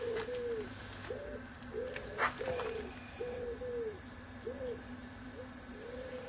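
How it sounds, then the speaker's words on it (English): A wood pigeon coos in a steady repeating series of soft, hollow calls, fairly distant, over faint background noise. "A gentle wood pigeon in the background as well."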